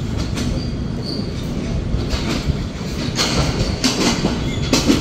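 Intercity Chitra Express with CRRC coaches rolls into platform 1 at Khulna station, a loud rumble of wagons and wheels with sharp squeals and clanks rising toward the end.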